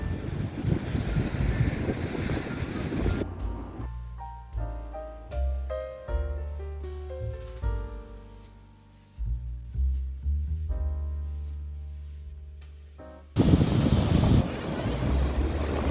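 Wind and surf on a clean beach at Puri, roaring loudly at the start and again at the end, with music playing through the middle stretch.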